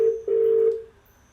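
Telephone dialing as a call goes out to Frank at the Walkabout Creek pub: a short tone, a brief break, then a longer steady tone that fades, clear and close with no talking.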